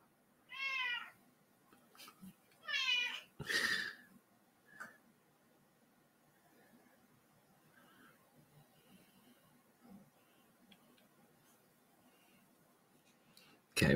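A cat indoors gives two quick meows and then a longer one, close and clear, followed by a person's shush. Quiet clicks and rustling fill the long stretch after.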